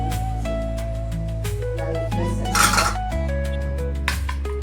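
A spoon clinks and scrapes in a bowl while salt and spice powders are mixed into a chutney for khata dhokla, metallic taps ringing over a steady background tone, with a brighter burst of scraping partway through.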